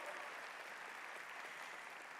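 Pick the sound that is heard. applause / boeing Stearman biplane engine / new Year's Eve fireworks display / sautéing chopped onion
applause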